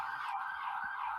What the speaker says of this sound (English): It's the only sirens we hear around here, Eric, on this show.